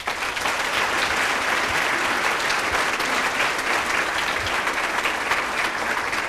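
A dinner audience at a Teacher of the Year celebration gives a round of applause for teachers, dense and sustained clapping from a large room, loud and even from start to finish with no voices over it.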